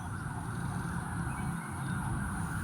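A passing ambulance wails with a steady siren tone over a low traffic rumble, moderately distant and holding at an even level with no talk.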